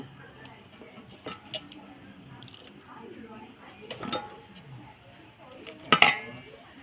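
Cooked goat curry is ladled from a pot into a large bowl, with scattered metallic scrapes and clinks of utensil against cookware and a sharp louder clatter near the end, under faint background voices.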